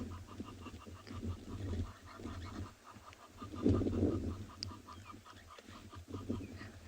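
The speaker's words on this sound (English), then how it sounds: "To me, this Egyptian goose really sounds like an old car trying to start." An Egyptian goose calls on an afternoon safari in South Africa, giving repeated rasping, honking notes that swell and fade over several seconds against a low background rumble.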